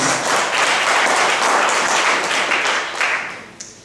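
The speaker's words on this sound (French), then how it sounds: "Applaudissez s'il vous plaît." Studio audience applause at a Haitian trivia quiz show in Paris after a correct answer, dense continuous clapping that holds steady and then tapers off near the end.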